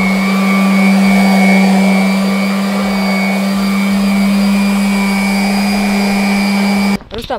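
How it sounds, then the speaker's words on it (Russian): Orbital sander working wood with 120-grit paper before painting, a loud steady motor whine with a constant high hum, running evenly and close, then cutting off abruptly near the end. "Я сейчас занимаюсь шлифовкой предварительной перед покраской. Прохожу 120-м зерном, чтобы скрыть все неровности и поднять ворс на древесине."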